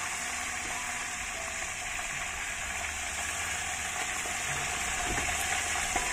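Fresh-caught fish frying in a pan, a steady, faint hiss and sizzle that runs evenly throughout.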